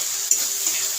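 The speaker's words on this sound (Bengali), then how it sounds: "মশলা কষে নিচ্ছি" A ground paste of ginger, garlic, cumin and garam masala sizzles loudly and steadily in a pan while being cooked down for an egg curry. The hiss is dense and continuous and close by, with small stirring scrapes.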